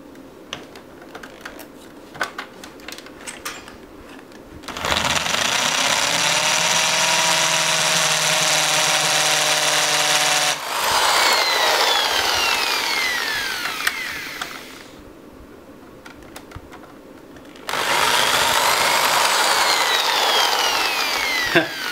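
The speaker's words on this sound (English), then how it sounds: "back to drilling the holes" A handheld drill bores holes in a plastic Sega Mega Drive II console case, with two sustained loud whirring bursts separated by quieter handling and scraping sounds.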